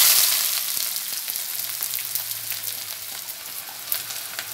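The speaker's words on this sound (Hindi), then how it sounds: "इनको आधी प्याली हम ऑयल गरम करके उसमें फ्राई कर रहे हैं।" Chopped onions frying in half a cup of hot oil for a cauliflower and beef curry, a steady bright sizzle with small pops and crackles, fairly loud and close, easing slightly over the seconds with no talking.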